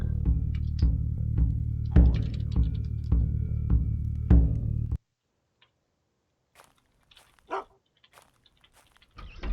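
A dog barks in the survival video game UnReal World: a run of evenly spaced, loud barks for about five seconds, then near silence broken by a few faint clicks and ticks.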